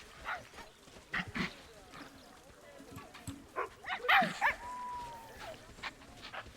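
An animal barking at a zoo, a few short high yips and barks at moderate distance, mixed with nearby people talking.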